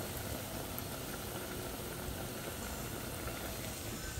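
Stuffed jumbo tofu frying in hot oil gives off a steady, even hiss that continues without a break, close and moderately quiet, with no talking over it.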